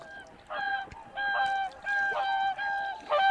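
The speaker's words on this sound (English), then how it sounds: "Swans heading north, looking for a place to breed." Migrating swans call while heading north in early spring, a series of clear honking notes in repeated bursts, fairly close and loud, overlapping one another with short gaps between calls.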